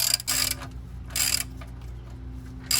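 A bolt on a 7th-generation Nissan Maxima brake tightened by hand with a ratchet, bursts of close, rapid clicking separated by quieter pauses over a low background hum.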